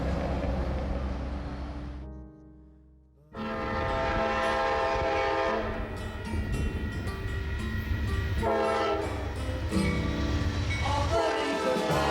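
A train rumbles past close by with a long, loud horn blast that cuts briefly, then resumes and sounds repeatedly over the heavy roar of the cars, on a cross-country American rail line heading toward San Francisco.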